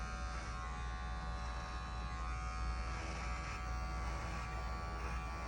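An electric hair clipper hums continuously at close range while cutting a bald fade on a faux hawk haircut, a steady buzzing drone without pauses.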